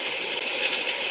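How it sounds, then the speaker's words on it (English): Steady whirring hum of greenhouse ventilation fans, a constant mechanical drone with a slight buzz, continuous and unchanging. "I think the sound you hear is not the bees themselves, but the fans on the greenhouses."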